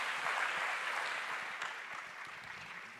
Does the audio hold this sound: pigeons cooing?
no